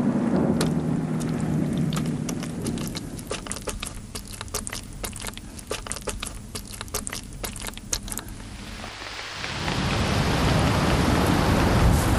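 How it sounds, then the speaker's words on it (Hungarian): Light rain begins to drizzle in Hungary's Kiskunság National Park, a steady hiss of drops with a rhythmic patter in the middle, then swelling into a louder wash near the end. "az eső lassan szemerkélni kezd"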